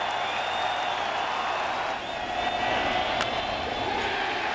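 A thinned-out baseball stadium crowd during a 2013 ALDS playoff game between the Detroit Tigers and Oakland A's roars and applauds in a steady, wide wash of cheering heard from a distance.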